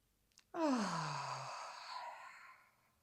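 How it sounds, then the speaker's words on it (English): A deep open-mouthed breath during a gentle standing yoga stretch: a faint intake, then a long voiced sigh that starts loud and tapers off over about two seconds, close and alone. "Take another big inhale."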